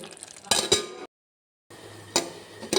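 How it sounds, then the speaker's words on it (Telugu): A couple of sharp metallic clinks as a lid settles onto a pot of simmering leafy greens, close and brief, separated by a moment of silence. "మూత పెట్టేస్తానండి"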